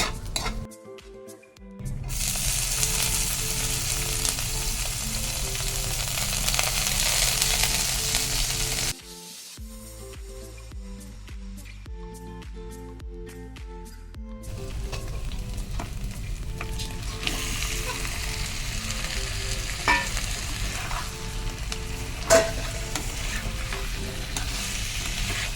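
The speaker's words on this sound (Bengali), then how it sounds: "আজকে এই উচ্ছে আলু ভাজা আমি করছি" Bitter gourd and potato fry in a pan with a steady, loud sizzle, broken by a short lull. Repeated stirring scrapes and clinks of a utensil against the pan run throughout.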